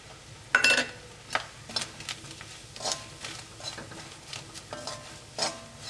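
Grated coconut frying with turmeric powder in a pan, soft sizzling under repeated spatula scrapes and stirring knocks, close and fairly quiet with no talk.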